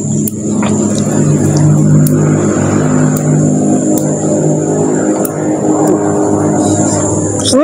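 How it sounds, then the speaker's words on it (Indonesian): An airplane flies overhead in Nabire, Papua, during an outdoor breakfast, a steady broad engine drone that stays loud and constant throughout, with faint sharp clicks and outdoor noise around it. "Ada suara pesawat."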